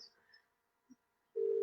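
A phone call ringing out while calling Debbi: faint electronic tones and a brief blip, then a steady loud ringback tone starts near the end, with no voices.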